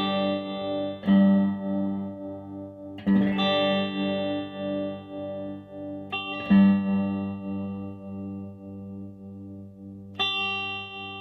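An electric guitar runs through a Red Witch Pentavocal tremolo pedal set fully clockwise, so strummed chords ring out four times with a pulsing, wavering shimmer in the upper tones over steadier lows.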